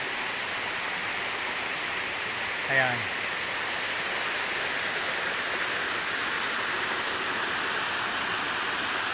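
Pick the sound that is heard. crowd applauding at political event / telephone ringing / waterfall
waterfall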